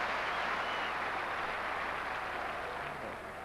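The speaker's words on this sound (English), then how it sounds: "Appreciative round of applause from the fans." A football crowd at a 1993/94 Premier League match between Newcastle United and Swindon Town gives a steady, broad wash of applause, distant and even throughout.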